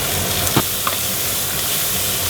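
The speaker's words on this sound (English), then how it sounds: "Now this needs to sizzle a bit as well." Garlic sizzles in a hot pan for a Brazilian feijoada, a loud, steady frying hiss with a couple of faint clinks near the start.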